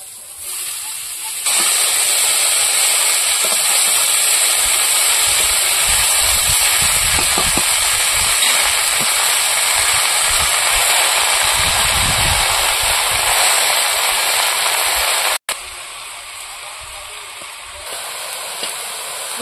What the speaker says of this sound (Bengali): ভাজা হয়ে গেছে, এবার শাকগুলো দিয়ে দেবো